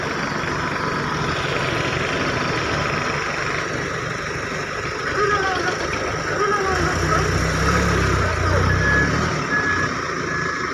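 A tractor engine idles with a steady low rumble that swells louder toward the end, while people talk over it outdoors.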